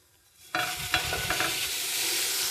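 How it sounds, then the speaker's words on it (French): A slice of vegan French toast laid into a hot pan bursts into a loud, steady sizzle that carries on after a short quiet lead-in. "Puis, on la dépose sur une poêle bien chaude."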